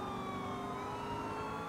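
A police car siren wails continuously in GTA 4, a steady wavering tone over traffic and engine rumble, close and fairly loud with no talk.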